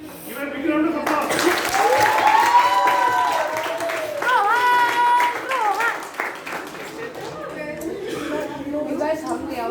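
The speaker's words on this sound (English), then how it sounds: "Give a big round of applause." A crowd at a grand finale event applauds in steady clapping that swells and then fades, with voices and cheering mixed in.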